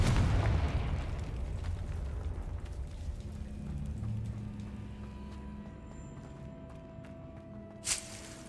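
A Confringo blasting spell explosion in Hogwarts Legacy: a loud rumbling burst that decays slowly into a fading roar, followed near the end by a brief sharp crackle.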